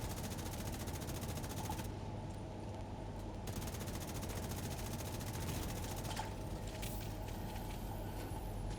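Sustained gunfire from The Division 2 video game, a dense continuous rattle of automatic shooting with mechanical hum beneath, steady and loud throughout with no talking.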